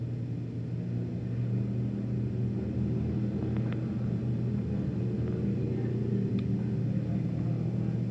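Race cars running side by side on an oval track, a steady distant engine rumble and drone that holds evenly throughout without breaks.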